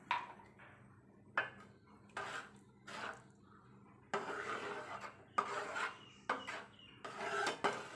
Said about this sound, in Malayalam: നന്നായിട്ടൊന്ന് കുറുകി വരുന്നത് വരെ നന്നായിട്ട് തന്നെ ഇങ്ങനെ ഇളക്കി കൊടുക്കുക